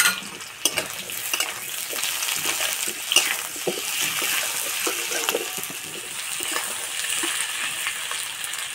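Chopped onion and tomato frying in a pan with lightly browned potatoes: a loud, steady, close sizzle with occasional soft stirring clinks throughout.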